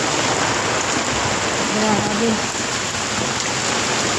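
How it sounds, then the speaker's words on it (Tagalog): Heavy rain from Typhoon Paeng pours steadily with a constant roaring hiss, loud and unbroken; a voice speaks briefly over it. "Ang lakas po ng hangin."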